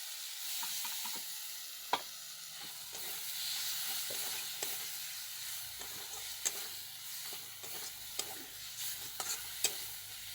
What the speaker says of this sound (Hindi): टमाटर पकईदेवा